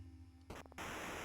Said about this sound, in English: Radio. Oh, static.